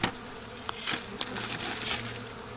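Honey bees buzz steadily inside a hive opened for a late-winter apiary check, a close, continuous drone with a few brief louder passes, and no talk.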